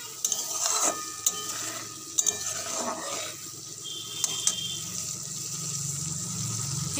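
Spice paste for vegetable khichdi being stirred and fried in a pot, with a steady low sizzle and scraping strokes of a spoon, plus a few sharp clinks of utensil against metal, close and alone without talk.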